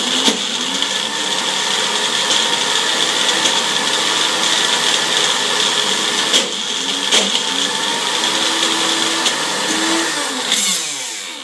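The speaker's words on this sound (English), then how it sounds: "Now in my food processor, after it was soaked overnight, I blended this" A food processor whirs loudly and continuously blending overnight-soaked urad and moong dal, its pitch wavering as the contents churn, then winding down near the end.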